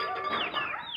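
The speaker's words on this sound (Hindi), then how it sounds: "ये है जी मेरा ब्लैक मुर्गा" A black aseel rooster clucks close by in a steady, busy run of short throaty notes, with no talking over it.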